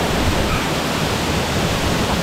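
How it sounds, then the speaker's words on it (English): A waterfall in Bali roars as a steady, dense wash of falling water, loud and close, with no voices over it. "I can't believe our luck that that was our first waterfall."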